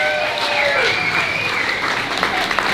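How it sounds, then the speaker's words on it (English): Audience applause for two people at a charity event: dense, continuous clapping from a crowd, loud and sustained, with voices mixed in beneath the clapping. "give a very big round of applause for these two"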